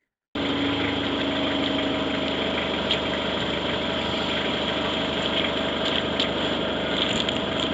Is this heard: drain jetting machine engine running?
yes